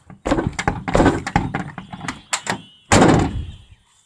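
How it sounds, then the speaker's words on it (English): An old vehicle's stiff door, long left sitting, is worked with a series of loud, close creaks, clunks and thumps, ending in a heavy slam, with no talking. "the door could use a little help there, that's for sure."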